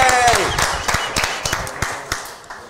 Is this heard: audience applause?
yes